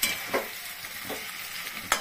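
Spice masala stirred and frying in a kadai for echor chingri, with a few scraping stir strokes over a steady soft sizzle, close and fairly quiet, no talk.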